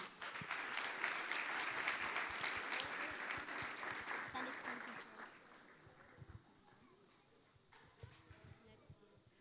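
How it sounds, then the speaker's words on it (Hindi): A church audience at a Sunday school Christmas celebration bursts into dense applause welcoming the Sunday school teachers, loud at first and then thinning into scattered claps with voices mixed in. "आप सबकी जोरदार तालियों में।"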